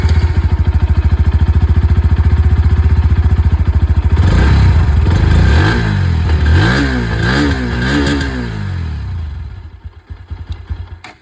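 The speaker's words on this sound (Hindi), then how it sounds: "अब मैं आप लोगों को यहाँ पर जो NS 125 की आवाज़ है ये भी मैं सुना दूँ।" A Bajaj Pulsar NS125 motorcycle with an underbelly exhaust idles with a loud, throbbing beat, then is revved several times in rising and falling swells before settling back toward idle, close by.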